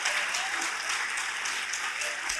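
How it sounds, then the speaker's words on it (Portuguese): Church congregation applauding in praise of the Lord, a steady, dense wash of many hands clapping throughout, fairly loud and continuous with no break. "Basta uma salva de palmas para o Senhor."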